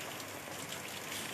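Heavy rain pours down steadily, a dense, even hiss with no pauses and no voices.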